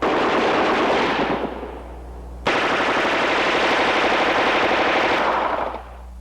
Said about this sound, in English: the airborne or armored soldier is capable of launching rifle grenades at any time with a live round, even while firing combat ammunition